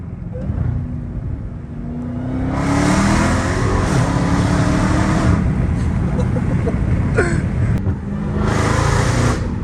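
A Dodge Hellcat Redeye's supercharged engine revs loudly from inside the car, its roar climbing and swelling in repeated pulls in second gear while people talk over it.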